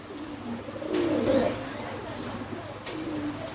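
Pigeons cooing at a farm, a soft repeated coo rising in the middle, mid-distance over steady background hiss, with someone talking nearby.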